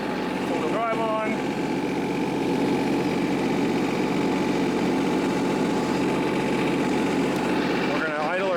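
A compact tractor engine idles in low gear with four-wheel drive engaged, a steady mid-pitched drone held close throughout, with brief squeaky sounds near the start and end.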